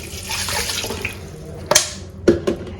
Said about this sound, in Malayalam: റോസ്മേരിയും കൂടി ഇട്ട് കൊടുക്കാം എന്നിട്ട് ആവശ്യത്തിനുള്ള വെള്ളം കൂടി ഒഴിക്കാം